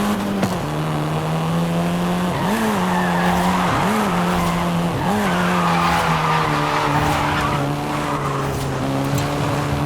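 A seventh-generation Volkswagen Golf R in Forza Horizon 5 drives with a steady engine drone and long, loud tire squeals as it skids and slides through turns, with shifting engine pitch and no voices.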